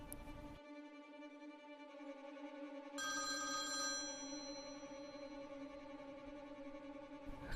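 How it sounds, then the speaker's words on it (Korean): A telephone rings with a steady electronic bell tone in a living room, its sustained ringing close and continuous, joined partway through by a brighter, harsher layer of ringing that persists to the end. "거실에 전화벨 소리가 울려 퍼지고"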